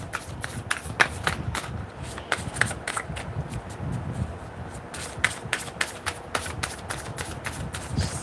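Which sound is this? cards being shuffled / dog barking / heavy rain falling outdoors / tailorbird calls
cards being shuffled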